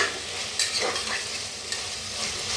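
Tomatoes roast in a pan for a gobi pulao, giving a steady, close sizzle with a couple of sharp stirring scrapes of a utensil against the pan; no one speaks.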